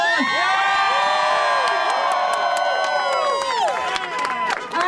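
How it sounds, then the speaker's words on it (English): Teachers and supporters at a Chicago unionized charter school rally cheer, whoop and clap for the union council president, a loud, crowded burst of high shouts and applause that stays strong before easing slightly at the end. "Give her a round of applause."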